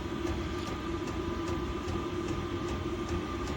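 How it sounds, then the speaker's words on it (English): A diesel heater runs in a shed, giving a steady dense mechanical drone and hum with faint rhythmic ticking from its pump, continuous and fairly close with no voices. "Now the pump you can hear starts running faster."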